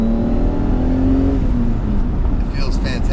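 A BMW E34 with a 3.7L stroker M30 engine on a standalone ECU accelerates hard. A loud engine drone climbs steadily from inside the car, with a brief clatter near the end.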